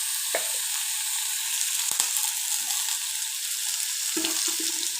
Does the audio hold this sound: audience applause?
no